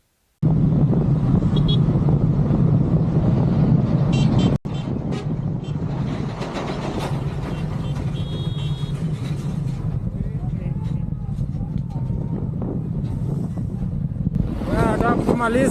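A trailer truck overtakes cyclists on a Kenyan highway, heard as a steady, loud rumble of road and wind noise that runs unbroken through the whole stretch, with a brief sharp dip partway through.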